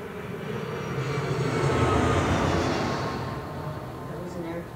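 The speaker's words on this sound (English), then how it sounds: "That was an airplane." An airplane passing overhead, a broad, steady roar that builds and then slowly fades over several seconds, with people talking underneath.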